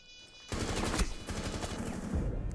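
Rapid gunfire in Rainbow Six Siege on PS4, bursts of automatic shots crackling in quick succession after a brief quiet start, loud and dense with no talk.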